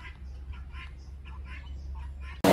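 Several Peking ducks quack in short repeated bursts against a low rumbling background, moderately close.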